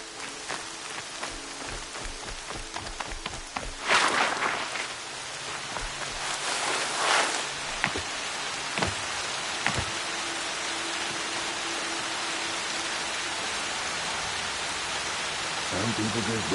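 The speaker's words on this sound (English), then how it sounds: "Rain's not so bad." Rain falling in the Horizon Zero Dawn game world, a steady, hissing wash of drops that stays constant throughout, with a few brief louder bursts partway through.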